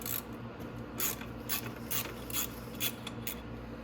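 Ratchet wrench loosening 10 mm bolts on the front bumper of a Venom 125cc Grizzly ATV, a steady series of rapid clicking bursts at an even pace, close but faint, with no talk.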